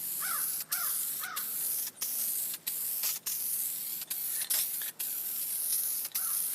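Interior trim spray dye paint hissing onto BMW or Mercedes upholstery in loud, close bursts. Each burst lasts about a second, separated by short pauses, and no one speaks.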